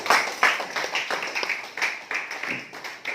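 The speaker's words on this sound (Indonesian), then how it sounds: "Oke, aplaus, bagus." Classroom applause from a group of students, a steady run of dense, quick hand claps that stays fairly loud throughout.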